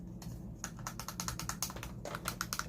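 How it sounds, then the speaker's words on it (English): Clicky buttons on a small telephone-like gadget are pressed in a rapid series of crisp, close clicks, one after another in an uneven rhythm, with no voices. "Yeah, so you have clicky buttons on this."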